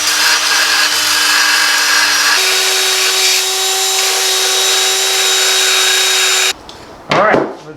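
A power tool bevels a part on a 1978 Toyota Corolla being converted to EFI, a loud steady high-pitched whine that shifts pitch partway through, then cuts off and restarts briefly.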